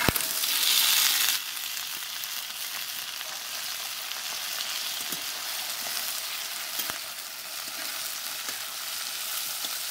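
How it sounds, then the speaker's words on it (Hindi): Onion and soaked chickpeas fry in a pan with a steady loud sizzle, a brief stir or clatter breaking in now and then, no voices over it. "प्याज को भी भून लेंगे हल्का।"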